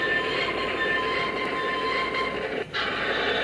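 A Lionel model train with a hot box runs steadily, rumbling with a constant high whine and hiss throughout, briefly dipping near the end, close and continuous.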